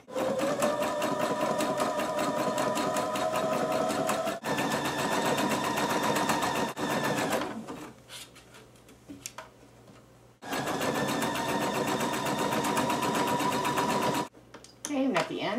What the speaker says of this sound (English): I'm just going to stitch right along the bottom of this fold. And I'm going to use a zigzag stitch.